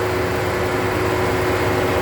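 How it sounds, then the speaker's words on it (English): A 2018 Ford Escape engine runs at a smooth, steady idle, heard up close as an even hum with a constant tone and no talking. "Now show the shot of the motor as it's running."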